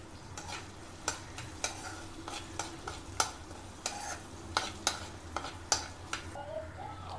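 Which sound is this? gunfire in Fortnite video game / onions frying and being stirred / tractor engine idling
onions frying and being stirred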